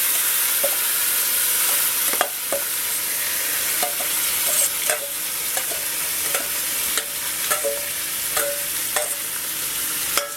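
Marinated mutton for bhuna gosht fries in a pan with a loud, constant sizzle, broken by periodic scrapes and clinks of stirring, close by and with no voices.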